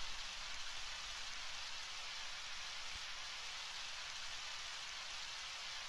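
Steady, even rain hiss from the Undertale video game, a faint continuous wash of noise with no other sounds or voices.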